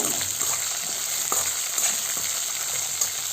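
Green chillies fry in hot oil with a steady, dense sizzle and a few faint stirring knocks, close and continuous throughout.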